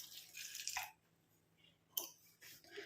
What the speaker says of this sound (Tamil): இப்போ இந்த இதில் வந்து நம்ம 1 டம்ளர் அளவுக்கு தண்ணி சேர்த்துக்கலாம்